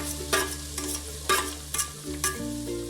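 Ground spice paste for Junnar-style maswadi being stirred and sautéed in a pan, a steady close sizzle broken by several sharp scraping strokes of the spoon, with no voices.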